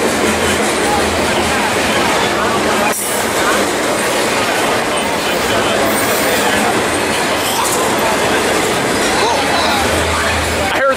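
A train rumbles past up close at Fullerton with a continuous loud roar of wheels on rails, faint clacking and squealing, and voices talking underneath.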